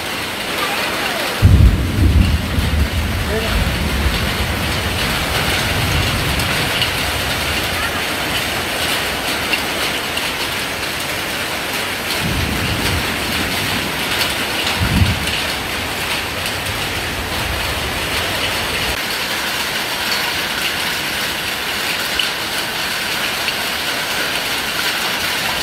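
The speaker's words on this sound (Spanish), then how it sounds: "Aquí son los granizos que caen" Hail falls in a strong thunderstorm in La Libertad, El Salvador. A dense, steady roar of ice and rain hitting surfaces runs throughout, with several low, rumbling swells of thunder.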